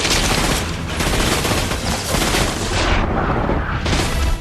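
Submachine guns fire in dense, rapid bursts in the video game The Darkness, loud and nearly continuous, with only a short lull near the end.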